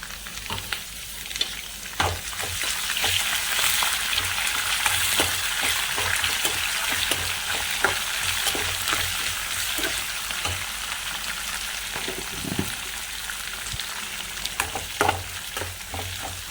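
Curry leaves and peanuts fry in hot oil in a pan for pulihora, a steady close sizzle with crackling pops and occasional stirring scrapes throughout.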